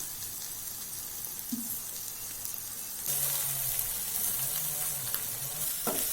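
Eggs and onion for a spicy egg masala fry sizzle loudly in a pan over a high flame, a dense crackling hiss with occasional scraping stirs, growing louder and busier partway through.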